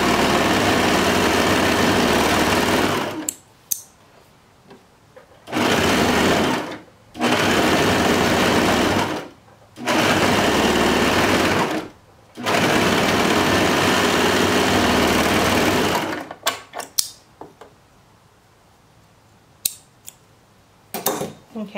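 A sewing machine stitches along the sides of boy shorts in loud, close, continuous runs of several seconds each, separated by brief pauses, then gives way to light handling clicks and rustles.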